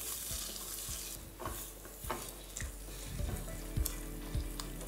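Mustard masala for tilapia curry fries in a pan over a medium flame with a steady close sizzle, broken by repeated scraping stirs of a spatula at a fairly even pace.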